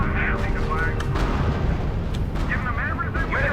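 Tank unit under sustained fire in the RUSE strategy game, continuous booming artillery and gunfire with repeated explosions, while a voice talks over the battle.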